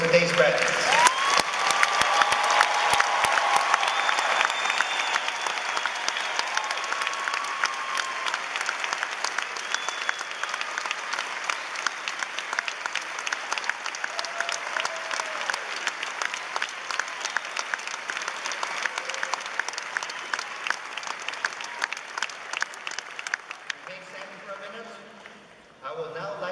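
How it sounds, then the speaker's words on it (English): A large crowd gives long, sustained applause for graduates at a graduation ceremony, loud at first and slowly thinning with scattered claps, while faint voices and cheers rise near the start and end. "Please join me in another round of applause for today's graduates."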